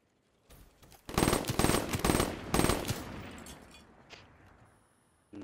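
Rapid bursts of automatic gunfire in a multiplayer shooter video game, several loud volleys in quick succession, then fading into quieter in-game noise.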